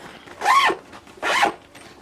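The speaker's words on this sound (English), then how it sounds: "it's a double zip" A double zipper on a fabric travel packing cube is pulled in two quick, close, loud zips about a second apart.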